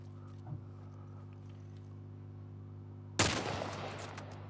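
A single loud rifle shot in The Last of Us, fired after a stretch of low steady hum, with a sharp onset and a trailing echo that fades over about a second.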